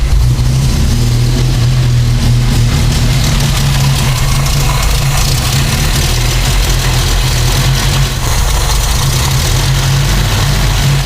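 Volvo 145 engine idling steadily around 800 rpm after a timing adjustment, a loud, continuous low rumble close by with no speech.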